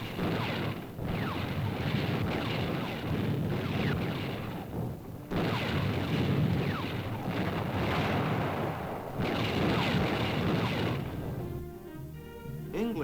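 Anti-aircraft artillery firing on a gunnery range, heavy booming blasts rolling in a dense, continuous roar of gunfire and wind buffeting the microphone, loud and sustained with brief dips between volleys.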